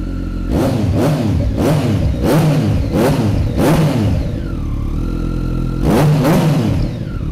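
A three-cylinder Yamaha XSR900 motorcycle engine, in Velocity Moto 900LC form, revs repeatedly in sharp bursts, six or so rising-and-falling blips over a steady idle, loud and close.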